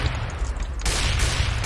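Gunfire in the game CS:GO fills the clip as a dense, close, continuous rattle that grows harsher and louder partway through, with no voices heard.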